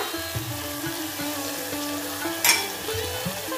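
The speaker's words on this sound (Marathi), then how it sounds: "आता हे सुद्धा व्यवस्थित सर्व काही परतून घेणार आहोत आपण" Spice paste with turmeric sautéing in a pan for a potato and pavta bean bhaji, a constant close sizzle with one sharp scraping stir near the end and no talking.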